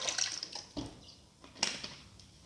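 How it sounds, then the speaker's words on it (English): Water pours into a chickpea mixture in a kitchen, a light splashing trickle that comes in a few uneven bursts before fading, with no one talking. "Pour in around 250 ml of water."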